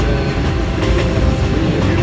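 A train rolls along rails with a steady, loud rumble and a faint rhythmic clatter throughout, with no voices.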